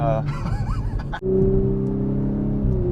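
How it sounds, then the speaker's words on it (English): A 2023 Audi S5 Sportback cruising on back roads, its engine a steady low drone with a sustained whine riding above it, under a person's talking at the start. "That engine noise, Yikes. transmission whine"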